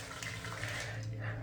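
Close, steady stream of water running from a tap during face washing with cleanser, a continuous soft splashing rush with no talk.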